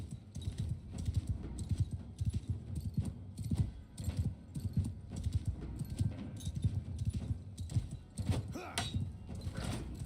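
Busy clip-clop of horse hooves mixed with clanking, mechanical clatter in the video game War Sails, fairly steady and close, with a faint voice in the background.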